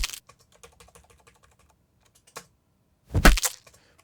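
Punch sound effects layered for a film fight, edited with the hits spread a frame or two apart: a faint scuffle of small clicks, one short thud, then a loud, dense burst of overlapping impacts near the end.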